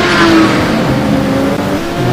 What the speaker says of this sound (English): Big Al running that Ferrari 575 out.